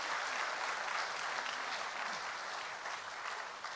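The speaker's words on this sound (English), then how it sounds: "Y'all give her a round of applause." Crowd applause at a South Carolina Senate primary stump event, dense sustained clapping from a sizable audience, loud and continuous, easing slightly near the end.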